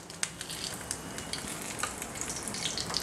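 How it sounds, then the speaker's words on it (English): Dry red chilies hit hot ghee in a preheated pan and crackle in a busy, close frying sizzle, with scattered sharp pops over a constant bubbling hiss. "now ghee is already hot. Add dry red chili."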